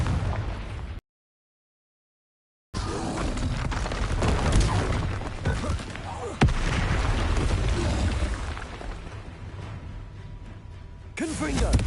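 Confringo blasting spells bursting in the open world of the video game Hogwarts Legacy, a string of loud, dense explosions running almost continuously with a short silent gap, with a voice shouting spell names over them.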